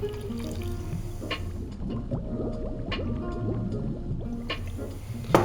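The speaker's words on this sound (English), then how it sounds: "take your favorite bottled soda water and just top up" Bottled soda water is poured to top up a cocktail, giving a close, gentle stream of liquid with fizzing and small drips into the glass, fairly quiet and steady with no speech.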